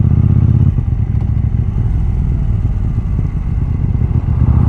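A KTM 790 Duke motorcycle engine runs in second gear at slow speed with the throttle closed, a steady low rumbling drone with a slight clattery texture, close and continuous throughout.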